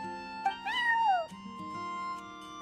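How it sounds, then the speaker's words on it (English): A cat in the video game Genshin Impact gives one clear, drawn-out meow with a falling pitch, close and distinct over quiet game sounds, with a few small chirps around it. "I'm sorry, that's my neighbor's cat."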